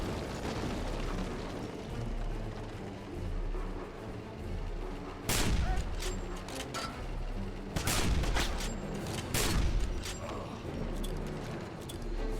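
Rifle shots crack out in Wolfenstein (2009), a few sharp loud reports spaced several seconds apart over a rumbling battlefield backdrop.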